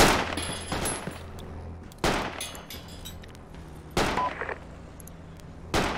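Mortar rounds fired in the Project Reality military shooter, three or four heavy booms spaced about two seconds apart over low battlefield rumble and distant gunfire.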